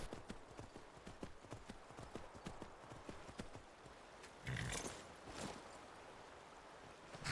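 Horse hooves clip-clop in a quick steady rhythm in Skyrim, fading toward the middle, followed by a brief rushing swell of ambient noise and quieter steps.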